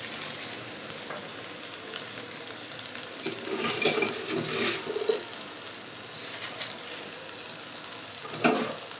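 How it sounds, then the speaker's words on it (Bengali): Malabar spinach goes into prawn curry cooking in a wok, bringing a loud, steady sizzle with a few stronger crackling bursts as the greens hit the hot pan. "তো পুঁই শাকগুলো দিয়ে দিচ্ছি কড়াইটা"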